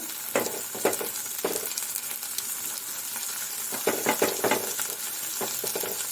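Potatoes and onions frying in a pan for atukula upma (poha), a soft continuous sizzle broken by repeated scraping stirs of a spoon at an uneven rhythm, with no voices.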